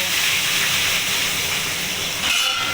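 Chopped onion hits hot oil in a kadai for a katla fish kalia and sizzles loudly, a dense, steady hiss heard close and alone for the whole stretch.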